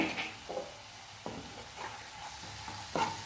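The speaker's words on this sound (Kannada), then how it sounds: "ಒಂದು ಸ್ಪೂನಷ್ಟು ಟೊಮೆಟೊ ಸಾಸ್, ಎಲ್ಲವನ್ನು ಮಿಕ್ಸ್ ಮಾಡಿ" A spoon stirs a chilli paneer mixture with tomato sauce in a pan, giving soft repeated scraping strokes over a low sizzle, close and moderately quiet, with no voices.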